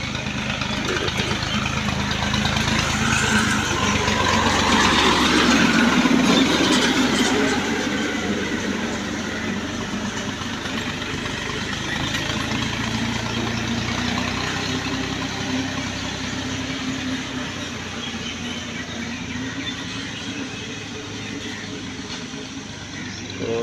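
A tractor engine runs continuously while cutting grass on a lawn, a steady mid-level drone with a slight swell early on, heard from moderately close with no clear pauses.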